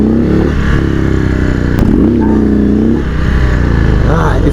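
Indian Sport Chief motorcycle revving hard at low RPM as the back tire spins and burns rubber, a loud close engine roar with rising and falling pitch sweeps and clattering.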